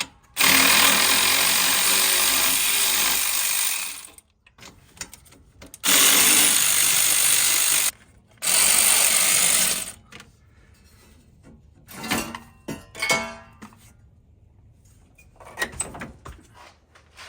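Power tools whir loudly in long bursts while removing exhaust manifold studs from a Jeep 4.0 engine, pausing between runs, then giving way to scattered clanks and metallic handling of parts.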